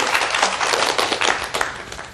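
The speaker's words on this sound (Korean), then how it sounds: "다시 한번 박수로" A studio audience breaks into dense, loud applause at a Christian testimony broadcast, an even wash of many hands clapping for a couple of seconds before it starts to thin out.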